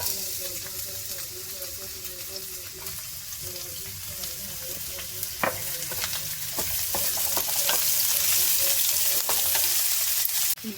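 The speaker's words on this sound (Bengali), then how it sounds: "এখানে অল্প তেল নিয়ে নিয়েছি, তেলটা গরম হয়ে গেছে। এবার দেবো পেঁয়াজ কোচানো" Chopped onions hit a little hot oil in a pan for Manchurian and fry with a steady loud sizzle. Scattered stirring clicks and scrapes sit on top, and the hiss swells toward the end.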